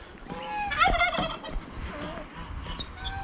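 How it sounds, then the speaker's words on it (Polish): Hen or other barnyard fowl calling near a water trough on a small farm, a run of clucks and gobble-like calls close by with no talk. "Któraś kura nie wytrzymała ciśnienia i zniosła jajko przy wodopoju."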